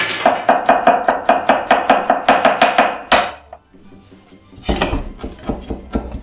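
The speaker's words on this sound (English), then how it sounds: "For the garlic, I can just smash it like this." Garlic smashed and chopped with a knife on a cutting board, a rapid run of about twenty sharp, even knocks close by, a pause with faint handling, then a louder clatter and a few more taps.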